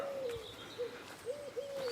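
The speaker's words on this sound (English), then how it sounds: "The pigeons are cooing." Pigeons coo softly along a residential footpath, a few low rolling calls with gaps between them over a faint outdoor background, some lighter bird chirps mixed in.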